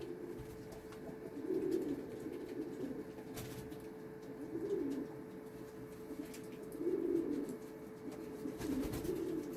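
Several pigeons coo in soft, low, rolling phrases that repeat every couple of seconds over a quiet, steady background.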